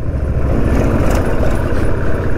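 A tractor engine runs close by on a rural road, a loud, steady low rumble with rough broadband noise throughout, no talking.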